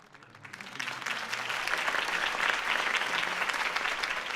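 Crowd applause after Harvey Dent's campaign speech in the Batman Telltale video game, swelling up from near silence into a sustained, full roar of clapping from a large audience.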